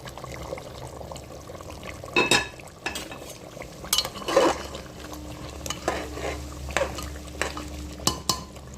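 Fried ghee and chili tempering poured into mutton rogan josh, with scattered metal clanks of a utensil against the pot, a brief splashing pour and soft stirring between quieter stretches, heard up close without talk.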